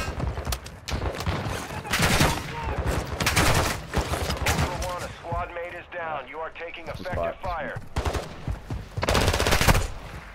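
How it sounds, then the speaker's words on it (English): Gunfire in a tactical shooter video game, with bursts of automatic fire and scattered shots coming in several loud clusters, mixed with radio-style voice chat and talking between the bursts. "Taking effective fire."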